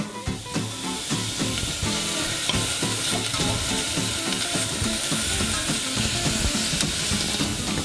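Onion and ginger fry in a hot pan for laing, a loud continuous sizzle and hiss with steady scraping stir strokes and a rhythmic patter throughout, no voices.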